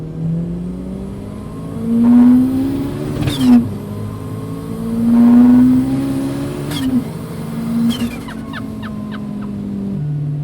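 Turbocharged VW Golf rally car engine revving hard and accelerating through the gears, with loud rising pitch sweeps, brief shift pauses and turbo whoosh, close and alone without talk.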